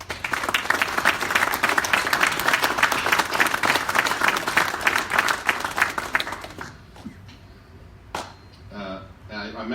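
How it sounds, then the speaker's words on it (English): An audience at a military retirement ceremony breaks into sustained applause lasting about six seconds, many hands clapping together before it stops and a speaker resumes talking. "I would like to just take a moment to give you all a round of applause"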